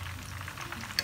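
Prawn fritters sizzle steadily in hot oil, a continuous close crackling hiss with a brief sharper pop near the end and no talking.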